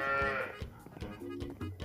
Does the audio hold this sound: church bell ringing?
no